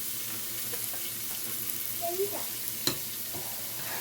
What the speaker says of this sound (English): it's starting to sizzle, so we'll put the rest of the onion.